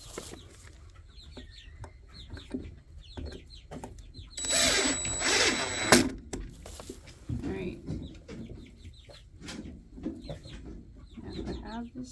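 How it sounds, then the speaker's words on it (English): Hens cluck and squawk in short, repeated bursts close by, and one loud agitated flurry stands out midway while a person talks over them. "Chickens."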